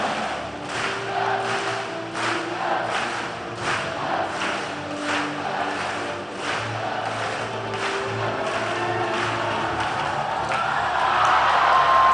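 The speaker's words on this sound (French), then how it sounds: "Sous vos applaudissements, s'il vous plaît." Audience at a martial arts night show in Dakar, Senegal, applauding and cheering after an aikido demonstration, a dense crowd roar with claps and whoops that swells toward the end.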